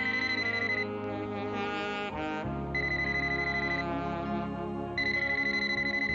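A phone ringtone repeats steadily, a bright electronic melody with short pauses between rings, close and clear, going unanswered with no one speaking.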